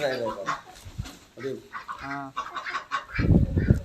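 Seven ducks kept in a garden alongside chickens quack in close, loud bursts while people talk nearby, with a dog-like bark mixed in.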